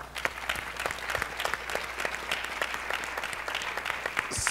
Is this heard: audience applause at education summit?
yes